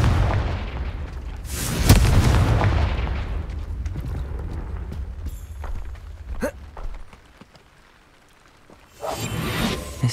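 The Confringo fire spell in Hogwarts Legacy fires off as a heavy booming blast with a whooshing burst, followed by quieter magical effects and another rumbling surge near the end.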